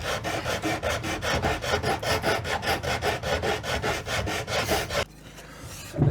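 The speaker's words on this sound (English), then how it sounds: "And then we just sand." Steady rhythmic rasping of a sanding block stroked back and forth over wood, close and loud, stopping abruptly near the end.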